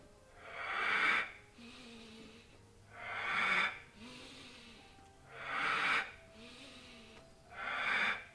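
Slow, rhythmic breathing during a Pilates exercise: four long, audible breaths about every two and a half seconds, each a hissing exhale with a slight wheezy edge, close and quiet, separated by softer inhales.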